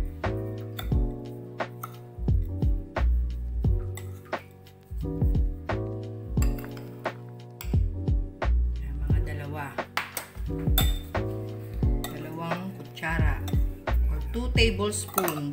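A spoon mixing ground peanuts with brown sugar in a bowl, sounding as repeated clinks and scrapes against the bowl with short pauses, plus a few faint background sounds.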